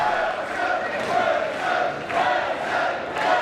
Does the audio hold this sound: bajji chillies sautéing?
no